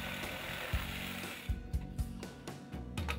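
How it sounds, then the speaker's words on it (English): A jigsaw cuts a curved shape in a southern pine board for a picnic table, giving a rough buzzing rasp broken by several sharp knocks and pauses as the blade stops and restarts. "Use a jigsaw to cut out the rough shape."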